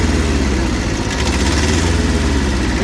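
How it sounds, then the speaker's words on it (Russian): A Kubota B6000 mini tractor's diesel engine runs smoothly at a steady idle, with a close, continuous low rumble and mechanical clatter. "видно, что состояние двигателя слышно хорошее. Работает он отлично, мягенько, при этом набирает обороты достаточно быстро"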